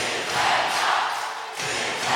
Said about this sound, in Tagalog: As you hear the crowd shouting defense